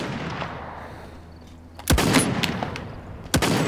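Two sharp, loud sniper shots crack about 1.4 seconds apart in the Realm Royale battle royale game, each with a short ringing tail over quiet background ambience.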